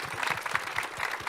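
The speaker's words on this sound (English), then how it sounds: "So please, applause to you." A brief, steady patter of many hands applauding at a developer conference closing ceremony, the clapping heard from across a hall at moderate volume.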